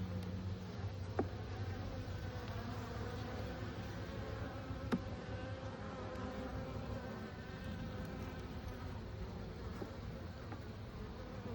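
Honey bees buzz at an opened hive checked without smoke on a cool day, a dense continuous hum of many bees close by with faint clicks and no talking.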